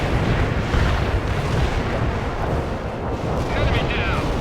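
Heavy artillery pounds continuously in the real-time strategy game World in Conflict, a dense, loud wall of blasts and rumbling with unit voices calling out beneath.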